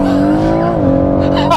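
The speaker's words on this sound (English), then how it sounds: "That gear change, man." A tuned stage 2 BMW M140i accelerates hard, its loud engine note rising and then dropping sharply at a gear change before pulling again, heard from inside the car while people talk.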